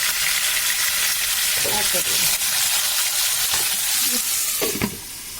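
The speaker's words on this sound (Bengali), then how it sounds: "তো মুরগি ভাজা প্রায় হয়ে গেছে" Steady, loud sizzling of chicken frying in hot oil, with a few brief scraping stirs and faint low voices underneath.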